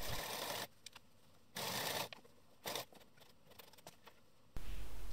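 Sewing machine stitching stretched elastic onto the back panel of a fabric cycling cap, heard as several short bursts of rapid mechanical whirring separated by quiet pauses, close and fairly loud.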